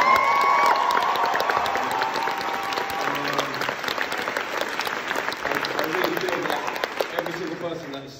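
A West End theatre audience at Hamilton's cast-change bows claps and cheers in sustained, dense applause, with whoops and voices mixed in as it continues and slowly thins.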